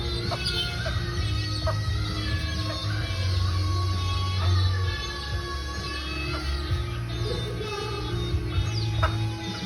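Chickens cluck and chatter nearby in a busy, overlapping stream of short calls, with a low hum underneath.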